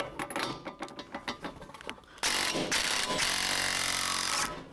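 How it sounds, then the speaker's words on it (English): A DeWalt battery-powered impact gun working loose a staked hub nut: a few quick rattling bursts first, then a long, loud continuous hammering whir that stops abruptly. "You may need an air impact gun. I'm gonna try this DeWalt battery-powered gun."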